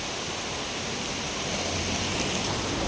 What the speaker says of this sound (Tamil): அந்த ஃபால்ஸ்லேருந்து வரக்கூடிய தண்ணீர் ஒரு சின்ன ஆறு மாதிரி வருது பாருங்கள்